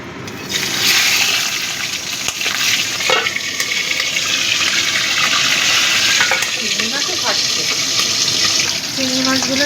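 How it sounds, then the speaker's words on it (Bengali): Large prawns dropped into hot oil in a wok burst into a loud, close, continuous sizzle and crackle that holds steady, with a voice speaking briefly toward the end. "এবার আমি চিংড়ি মাছগুলোকে ভেজে নেব।"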